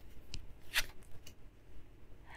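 Tarot cards handled while being picked out, with faint close riffles and a few soft sharp snaps of card against card in a quiet room.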